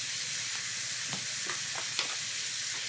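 Ginger frying in a pan with marinated chicken innards, a steady close hiss of sizzling oil with a few soft stirring scrapes, no voices.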